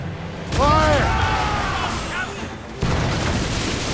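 Ship cannons firing in the Assassin's Creed Rogue video game, heavy booming blasts layered with roaring battle noise and a fresh impact near the end, with voices shouting over it.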